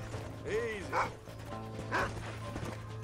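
Dog in the video game Red Dead Redemption giving a few short yipping barks at a moderate distance, with a voice calling over a steady low game hum.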